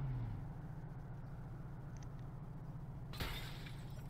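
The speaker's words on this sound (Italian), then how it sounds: "Boh, rompiamo il vetrino." Glass shattering in the GTA V video game, a single short, sharp crash near the end over a steady low engine-like hum.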